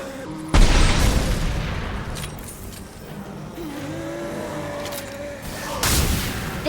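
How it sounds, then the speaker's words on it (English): High-pressure tanks exploding in the video game Mass Effect 2: a heavy booming blast, a rumbling tail, then a second loud blast near the end, with a voice speaking in between. "There are high-pressure tanks by the front. Do you want me to blow them up?"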